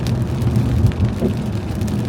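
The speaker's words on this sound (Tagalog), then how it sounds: "Grabe pa yung ulan." Heavy rain falling steadily outdoors near a parked car, a soft even wash of noise at moderate level with no voices.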